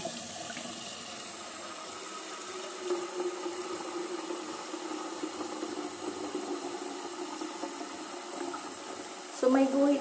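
Water running steadily into the tank of a water-filter vacuum cleaner, a continuous hiss and gurgle at moderate level, with a brief louder clatter near the end.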